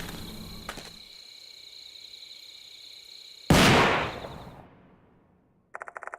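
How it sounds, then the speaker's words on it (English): A single loud gunshot in the horror video game Death Mark 2, set at shrine grounds, bursts out after a stretch of quiet tones and rings with a long reverberating decay before fading, followed by faint electronic blips. "the sound of a gunshot rings out, reverberate through the shrine grounds"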